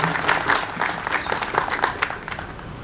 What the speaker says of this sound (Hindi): इनके लिए भी जोरदार तालियां हो जाएं।